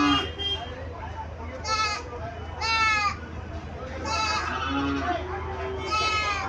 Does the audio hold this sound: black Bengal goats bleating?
yes